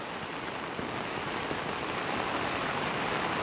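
Heavy Philippine rain pours steadily in front of a flooded house, a dense and constant hiss of water hitting surfaces that stays loud and unbroken throughout, with no voices.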